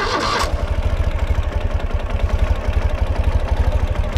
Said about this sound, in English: Turning ignition on, getting on the bike.